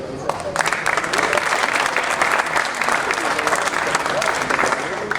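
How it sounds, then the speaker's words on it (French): Sustained crowd applause at a Sporting Club de Toulon football club gathering, a thick, steady wash of clapping with cheering voices mixed in, holding at an even level throughout. "On peut applaudir"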